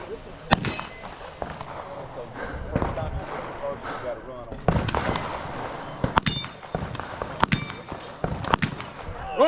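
Pistol shots ring off steel plates at a team shooting match: sharp bangs and metallic clangs come in quick, irregular bursts over steady background noise, with voices around them.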